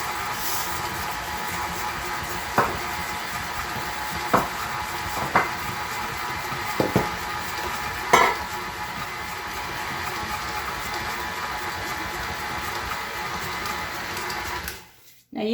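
A stand mixer turns a cup of sugar for vegan sugar cookie dough on its lowest stir setting, a steady whirring hum throughout with a few soft knocks and rattles, ending abruptly.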